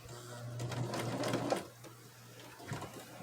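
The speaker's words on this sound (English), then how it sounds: "Do you hear that noise? Why does it want to do that? Don't do that, sewing machine." A Kenmore sewing machine making an odd noise whirs steadily for a few seconds, its motor hum and needle chatter rising and easing slightly before running on again.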